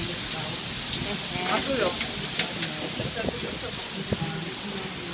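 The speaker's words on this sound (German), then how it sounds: "So, es regnet aus Kübeln." Heavy rain pours down outdoors in a dense, steady hiss with scattered drop impacts, while a person briefly talks over it.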